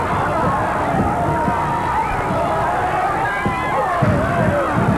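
A dense wrestling arena crowd roars and chants steadily throughout, with scattered thuds from the ring and voices talking over the noise.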